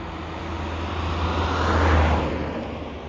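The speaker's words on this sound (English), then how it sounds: "Oh, come on, cars. Go away." Cars pass on a road near a dirt track, a broad engine and tyre rumble swelling to a peak midway and then easing off, heard alone without talk.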